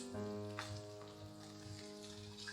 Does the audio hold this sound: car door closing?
no